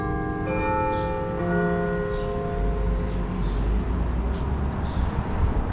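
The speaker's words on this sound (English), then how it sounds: "Church bells" Church bells ring out in an old town, a series of resonant strikes with long overlapping hum, heard from a moderate distance over steady outdoor street noise, with faint birds and no speech.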